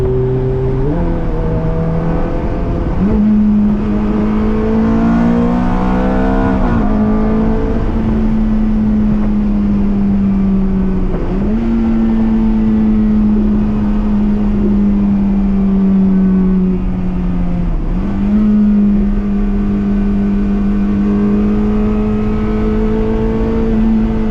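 A 2006 Ferrari F430 Spider with its F1 paddle-shift transmission, heard from on board while driving: a loud, steady engine drone that rises through the revs, dips sharply at quick gear changes and climbs again, with no talk.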